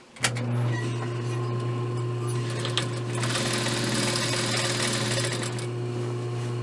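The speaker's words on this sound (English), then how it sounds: "The last thing we're going to do is top stitch our pillowcase together." A sewing machine top stitching a fabric pillowcase runs steadily with a constant motor hum and rapid needle stitching, close up and fairly loud, with no talking.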